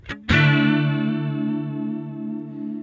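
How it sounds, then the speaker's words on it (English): Electric guitar through a chorus effect with an 80s indie tone: a quick pick, then one strummed chord that rings out full and shimmering, slowly fading over about two and a half seconds. "So this is a real chorusy sound."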